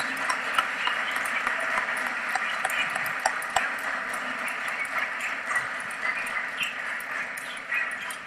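An audience applauds speaker Mariano Crespo at a lecture on Christianity and society, with steady, dense clapping that continues unbroken for several seconds with no voices over it.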